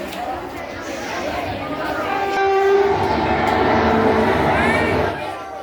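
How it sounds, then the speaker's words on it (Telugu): The Seshadri Express pulls in at platform four with a rumbling, clattering roll and a couple of horn blasts, over steady platform crowd chatter. "అబ్బా వచ్చి గంటసేపు అయితే ఇప్పుడు వచ్చిందండి బాబు రైలు"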